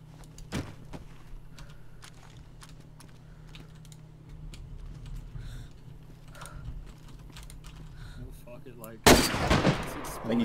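A single loud gunshot cracks near the end of a zombie video game sequence, preceded by soft keyboard clicks and faint mechanical game sounds.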